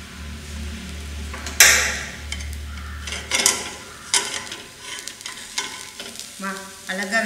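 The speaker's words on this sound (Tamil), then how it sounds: "பணியாரம் வந்து இப்போது வெந்துக்கிட்டு இருக்கு." Coconut paniyaram fry in a pan, a steady close sizzle of batter in hot oil broken by metallic scraping and clinks as the pieces are stirred and turned.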